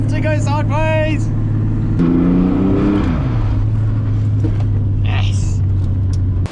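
Car sliding sideways through a slow corner in a drift-prepared build, a loud steady engine drone with a brief rise in pitch as the revs climb, then settling back to a constant low rumble, a voice briefly audible over it.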